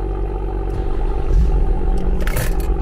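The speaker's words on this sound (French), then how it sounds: "Ce que vous entendez, c'est une 135i." A BMW 135i engine and exhaust run with a deep, steady rumbling drone up close, loud and continuous, with a few brief rasping bursts near the end and no talking.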